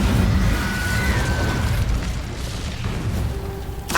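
Incendio fire spell cast in Hogwarts Legacy, a dense, continuous roaring whoosh of flame and rumble that stays loud throughout, ending with a sharp burst near the close.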